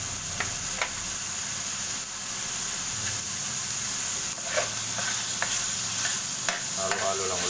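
Bacon and black pepper frying in a pan for Filipino laing, a constant close sizzle with intermittent scraping stirs of a utensil, no talk.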